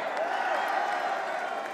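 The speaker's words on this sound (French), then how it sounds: "Applaudissez-les" A large crowd at a political rally at the Trocadéro applauds in a steady, dense wash of clapping and crowd noise that stays loud and even throughout.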